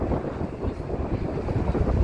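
Steady wind roars and buffets against the microphone on a rainy day in Kildare, Ireland, a continuous low rumble with no other sounds.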